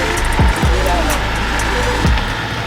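A Land Rover Defender 90 crawling off-road in low range, its engine a steady loud drone with a few low thumps, heard from inside the cab.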